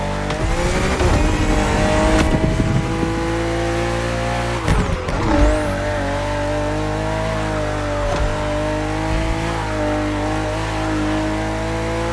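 A BMW M CSL in The Crew Motorfest racing game roars at full throttle, its engine note climbing through the gears with brief shift dips and faint tire squeal, loud and close with no talk.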